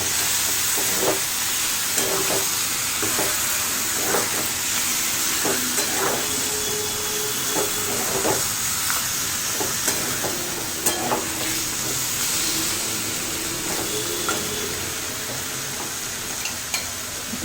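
Mushrooms fry with roasted spice powder and garam masala in a pan, giving a steady, loud sizzle and hiss throughout, with regular scrapes and taps of the stirring spoon.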